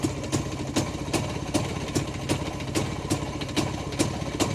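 Jawa motorcycle engine idling steadily, a continuous close mechanical drone with evenly spaced firing pulses and no voices.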